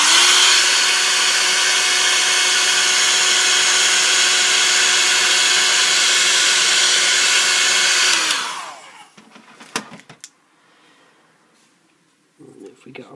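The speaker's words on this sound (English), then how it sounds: "So if you get a heat gun or a hairdryer and just give it a little heat up." A hairdryer or heat gun blows steadily and loudly for several seconds while warming the screen of a Samsung Galaxy W i8150 phone, then switches off, leaving faint handling clicks and rustles.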